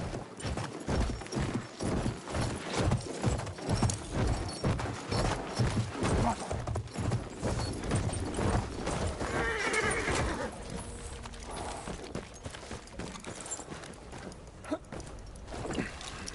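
Horse in the Battlefield 1 video game galloping with rapid, loud, rhythmic hoofbeats, then a shrill neigh partway through, over a dense game soundscape.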